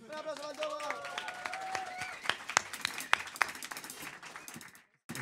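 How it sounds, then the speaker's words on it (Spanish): Applause from an audience greeting Tomás, a guest joining a folk trio with his guitar, with clapping building into steady mixed hand claps and a few sharp claps, voices talking over it, then stopping abruptly near the end. "Un aplauso para el Tomás."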